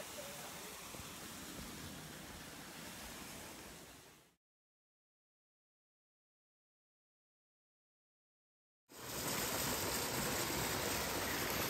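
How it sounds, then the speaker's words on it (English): Waterfall along a mountain stretch of the Appalachian Trail, a loud continuous broadband rush of falling water that cuts out to silence midway and then resumes just as strong. "Just waterfall after waterfall coming up this mountain."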